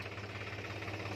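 A tractor engine idles at a wheat threshing site beside a Shree Ganesh thresher, giving a steady, even low hum with a faint rhythmic pulse that runs unbroken and alone.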